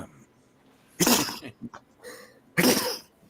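Two sharp sneezes burst out about a second and a half apart, close by, with a faint short vocal sound between them.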